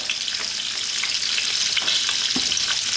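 Quail pieces fry in a hot pan with a steady, bright sizzle and crackle, occasional pops and a faint stirring scrape, close and continuous with no voices.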